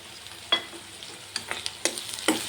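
Onions fry in a pan with rock salt added, a faint sizzle under scattered sharp clicks and scrapes from a stirring spoon, close and without speech.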